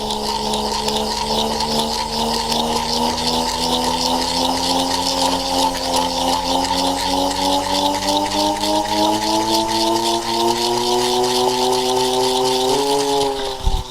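A small handheld gyroscopic ball spins at high speed with a loud, close, steady whirring whine that slowly rises in pitch, ending in a brief clunk.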